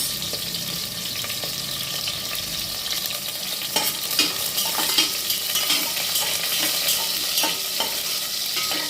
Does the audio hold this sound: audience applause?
no